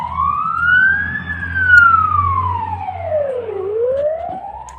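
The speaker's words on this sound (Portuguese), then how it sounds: "aqui tem as ambulâncias chegando para lá em Iurivka, né, para pegar os feridos e mortos" Ambulance sirens wail as ambulances arrive in Iurivka to collect the wounded and dead, a single loud rising-and-falling tone sweeping slowly up and down over a low engine rumble.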